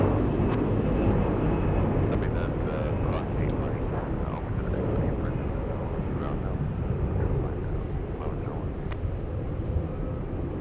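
Airbus A350 landing at Atlanta Hartsfield-Jackson airport, a steady low roar of jet engines with a deep rumble that carries on unbroken, loud and sustained.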